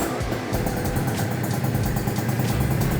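A Yamaha BWS 50 scooter engine runs unevenly nearby, its rough, fluttering note failing to settle into a proper idle, steady and loud throughout.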